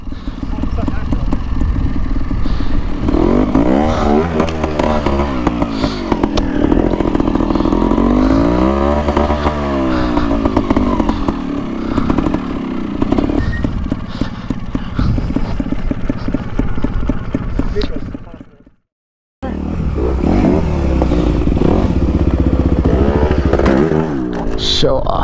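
Trials motorcycle engine revving while being ridden, a loud, steady buzzing drone that rises and falls in pitch, running almost continuously with a brief cut near the end, with voices talking over it.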